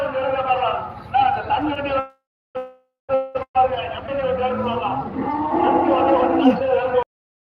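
Cattle moo at the Karungalpalayam cattle market in Erode, with long, low calls rising and falling through steady crowd chatter and market noise. A brief gap in the middle breaks the sound.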